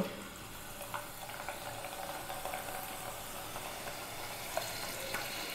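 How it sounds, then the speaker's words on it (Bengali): Spinach leaves coated in besan (gram flour) batter fry slowly over low heat for pakoras, making a faint, even, continuous sizzle with occasional small crackles. "বাকি পাতাগুলোকে এইভাবে বেসনের সঙ্গে কোট করে ধীরে ধীরে ভেজে নেব।"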